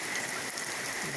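Heavy rain and hail pouring down during a summer storm in the countryside, a dense continuous hiss of drops striking surfaces, loud and close with no speech.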